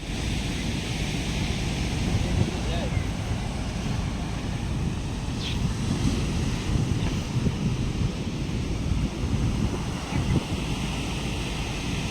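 Sea waves roll in at Gomti Mata beach, a steady roar of surf churned with gusting wind buffeting the microphone, continuous and fairly loud from start to finish.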